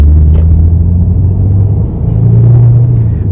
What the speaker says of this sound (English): Still hear the turbo whine and ain't drowning that out